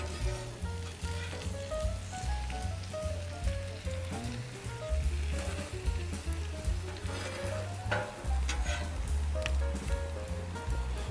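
Denver omelette sizzling on a Camp Chef flat top grill, a steady crackling fry running throughout with occasional spatula scrapes, under a low music-like hum.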